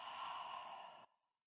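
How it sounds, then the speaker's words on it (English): A single long, breathy exhale during a yoga breathing exercise, close and fairly soft, cutting off abruptly near the end with no words spoken. "Exhale out and down."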